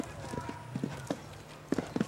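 A loose horse gallops during a 2002 point-to-point steeplechase race at Brandywine Hills. Its hooves give soft, uneven thuds at a moderate distance beneath a faint outdoor background.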